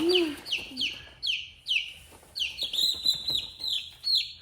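Repeated bright chirping calls of chicks, several per second, close by, with occasional low chicken clucks in between; no talking.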